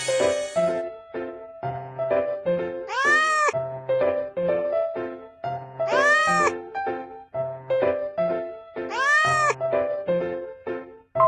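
A cartoon cat meows repeatedly in a steady rhythm in a children's cartoon, with a louder rising yowl returning about every three seconds, set against a busy musical background.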